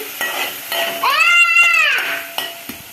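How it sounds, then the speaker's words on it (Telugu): Onions frying in oil in a home kitchen pan for egg curry, a steady sizzle with the scrape and clink of a stirring spoon, close and loud, punctuated by a couple of sharp knocks against the pan. "ఆనియన్ పచ్చి వాసన పోయేంత వరకు ఆయిల్ ఫ్రై చేయాలి"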